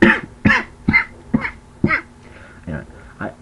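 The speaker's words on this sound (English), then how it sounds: "sorry again, bad cough." A series of about eight sharp, harsh coughs in quick succession, close to the microphone, with short gaps between them.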